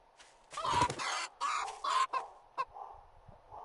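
Chicken in the survival game 7 Days to Die clucking in several close, loud bursts, with a few fainter clucks trailing off afterward.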